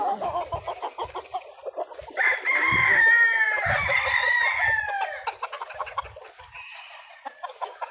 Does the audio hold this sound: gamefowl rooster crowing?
yes